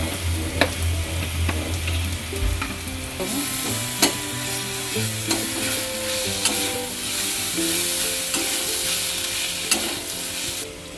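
Garlic frying with potato and onion in a little oil while a utensil stirs and scrapes the pan: a steady loud sizzle with repeated clinks and scrapes, close by, with no talking.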